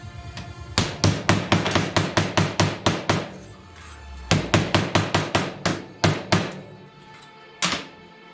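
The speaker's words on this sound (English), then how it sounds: "Hammer it flat," A hammer flattens a piece of metal during VW T3 camper rust repair, sharp rapid metallic strikes in two long bursts of steady blows with brief pauses, close and loud.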